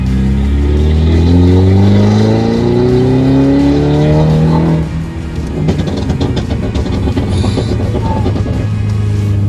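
A Mercedes C300 AMG Coupe with a stage 1 tune and pops-and-bangs map accelerates hard in Sport Plus mode, its loud engine climbing steadily in pitch, then dropping at a gear change before pulling again.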